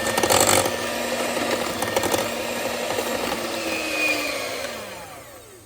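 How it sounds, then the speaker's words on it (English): An electric hand mixer whirs steadily as it creams mashed bananas with sugar, a continuous motor drone with faint scraping that winds down and fades near the end. "I'm going to use my hand mixer and I'm going to blend all this until it's nice and creamed"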